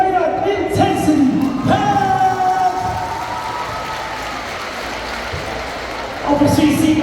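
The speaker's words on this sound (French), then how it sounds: "Une bonne main d'applaudissement pour les Coyotes Intensity" A crowd at a cheerleading competition awards ceremony in Quebec claps and cheers, with whoops and raised voices over a steady wash of applause that thins out midway, then swells again near the end.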